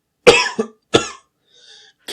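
Two sharp, loud coughs close to the listener, followed by a faint, brief whine.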